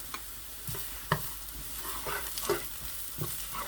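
Onions browning in oil with garlic just added sizzle quietly in a pan, with a faint steady fry and a few soft stirring clicks, no voices.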